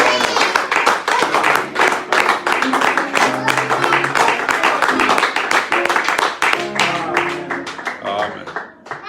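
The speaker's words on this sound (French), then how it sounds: "Tu vas acclamer très fort." A church congregation claps and cheers loudly in a steady, dense rhythm that continues throughout, with voices shouting and talking over the applause.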